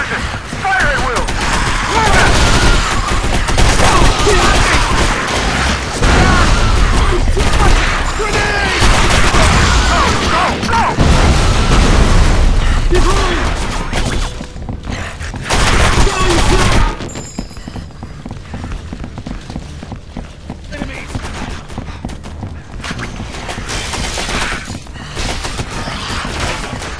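Rapid gunfire rattles through a firefight in the 2005 PC shooter Area 51, a loud, dense stream of shots and booms that eases off partway through, with voices talking over the action.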